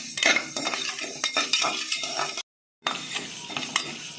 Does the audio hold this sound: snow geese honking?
no